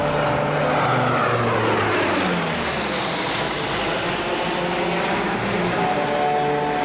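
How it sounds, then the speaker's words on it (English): A Royal Australian Air Force C-130H Hercules from 37 Squadron making a high-speed pass at about 300 knots and 200 feet at an air show, its propeller and engine roar loud and continuous with a sweeping pitch shift. "To your right, the C-130 from number 37 Squadron, a high-speed inbound to your right."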